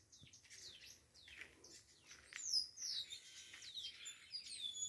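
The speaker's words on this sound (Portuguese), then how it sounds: "E os passarinhos cantando" Several small birds sing and chirp outdoors in Brazil, their quick, high tweets and short trills overlapping continuously at a moderate distance with no talking.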